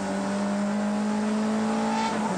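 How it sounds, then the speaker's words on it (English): A 1987 Nissan Skyline race car at Bathurst accelerates hard and upshifts, its loud engine note holding steady before rising at the end, close and continuous with no talk. "Needs every bit of power he can squirt out of the Nissan to third."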